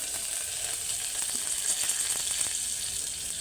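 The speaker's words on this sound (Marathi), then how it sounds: "आपलं तेल गरम झालेलं आहे त्याच्यामध्ये आपण टाकणार आहोत कोथिंबीर" Fresh coriander hits hot oil in a pan for a quick eggplant curry, producing a steady, bright crackling sizzle heard close up without speech.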